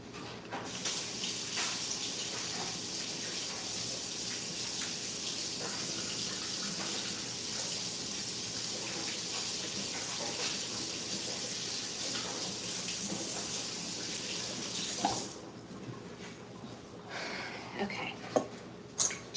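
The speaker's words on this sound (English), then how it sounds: "let me wash my hands real quick" Tap water runs steadily into a kitchen sink during hand washing, a continuous loud gushing stream that stops near the end, leaving a few faint clinks and handling sounds.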